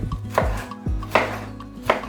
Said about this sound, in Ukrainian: Нарізаємо помідори.